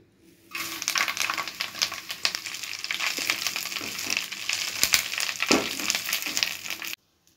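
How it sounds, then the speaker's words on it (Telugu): Curry leaves frying in two spoons of oil on a stove, a steady crackling sizzle with scattered sharp pops and the scrape of stirring, starting abruptly and cutting off after about six seconds. "కరివేపాకు వేగడానికి ఆయిల్ 2 స్పూన్స్ వేసుకుంటున్నాను."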